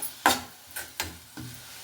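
Onion and carrot being stirred in a pan for a tempered dosa batter: three or four distinct scraping strokes, each a short rasp against the metal, with a light sizzle between them and no talking.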